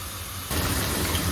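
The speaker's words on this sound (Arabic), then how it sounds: "الزيت طبعا بقى سخن، هننزل في البتنجان" Eggplant slices dropping into hot oil set off a sudden loud, broad sizzling hiss that fills the short clip to the end.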